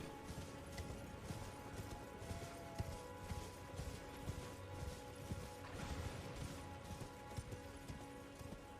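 In the video game Elden Ring, a horse's hooves trot with a rhythmic clip-clop under a steady ambient wash of game music and noise, quiet and evenly paced.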